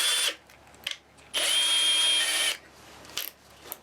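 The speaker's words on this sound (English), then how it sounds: "I'm literally taking a 1/8 inch drill bit" A power drill with a 1/8 inch bit whines at high speed for about a second while boring a hole into the back of an LED bulb, with short clicks and handling noises before and after.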